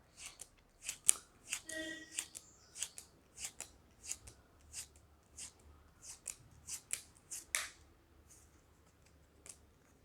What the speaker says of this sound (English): take one card from the top, one card from the bottom, put it